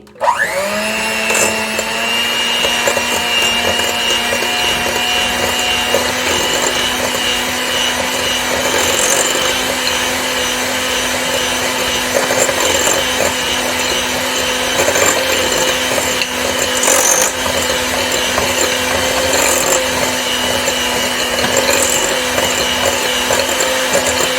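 An electric mixer, motor whirring, creams sugar, butter and a pinch of cinnamon for banana bread, starting abruptly and running loud and steady for over twenty seconds, close up with no talking.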